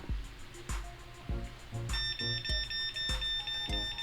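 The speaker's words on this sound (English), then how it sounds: "The unit's beeping behind me." An Aladdin Connect garage door unit beeping, a repeated pattern of sharp electronic beeps at a steady pulse, with a thin high tone joining partway through, fairly quiet and heard alone.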